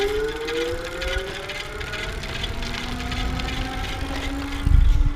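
EBO Cruiser e-bike kit hub motor whirring under pedal assist level 3, a steady tonal whine rising and falling in pitch with speed, close and continuous, with a brief louder rumble near the end.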